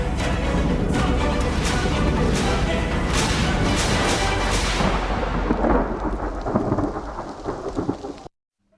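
Heavy monsoon rain pours steadily over flooded Saurashtra and Kutch in Gujarat, with repeated loud thunder crashes rolling through the downpour before the sound cuts off abruptly.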